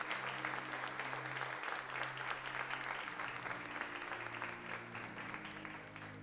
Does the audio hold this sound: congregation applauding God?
yes